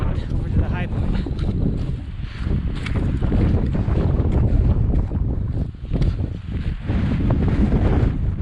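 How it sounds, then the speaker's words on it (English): Strong wind roars and buffets the microphone on a volcano crater rim in freezing, snowy conditions, loud and continuous with gusting surges, while a person talks under it. "It's extremely windy"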